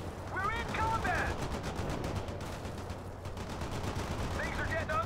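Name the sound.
armor-piercing rounds firing in video game World in Conflict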